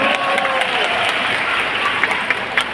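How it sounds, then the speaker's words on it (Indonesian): A crowd at an Islamic religious gathering in NTT claps together, a dense steady patter of applause filling the space, with some overlapping voices in the background. "Tepuk tangan dulu dong."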